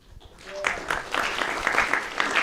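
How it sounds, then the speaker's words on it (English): An audience at a live debate event breaks into applause, a dense wash of clapping that swells quickly and continues steadily, close and fairly loud, with a voice briefly heard at the start. "Give a round of applause for him."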